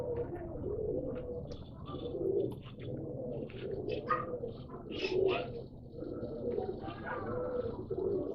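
Pigeons coo in soft, repeated throaty phrases, several birds close by at a pet sale, with faint chirps scattered between and a low steady background.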